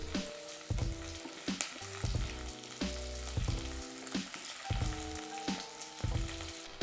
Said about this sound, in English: Stir fry until fragrant.